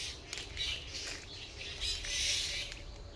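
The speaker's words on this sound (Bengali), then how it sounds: "কত ধরনের পাখির কিচিরমিচির আওয়াজ শুনতে পাওয়া যাচ্ছে।" Several kinds of birds chirping among trees on a morning walk, overlapping calls rising and falling at moderate distance over soft outdoor background, no speech.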